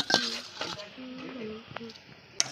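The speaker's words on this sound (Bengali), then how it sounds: "ফুলকপি ভাজা দেবো এবারে, একটু হলুদ আর নুন দিয়ে আমি ভেজে রেখে দিয়েছিলাম, দিয়ে দিচ্ছি এটা।" Fried cauliflower seasoned with turmeric and salt is tipped into a pot of khichuri cooking over a clay stove, giving a few metal clinks and soft scraping against the pot. A voice is heard faintly.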